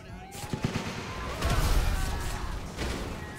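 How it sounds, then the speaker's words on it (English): Dense rapid gunfire and crashing effects from a video game fill the space, forming a loud, continuous barrage mixed with other game sounds. "Stop shooting me, Muggles!"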